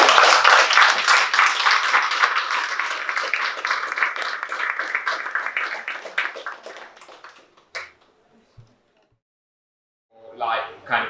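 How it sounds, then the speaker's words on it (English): Audience applause for Paul Bush at a talk, a dense wash of clapping that fades out over several seconds into near silence before a brief burst of sound returns at the end. "can we have a big round of applause for Paul?"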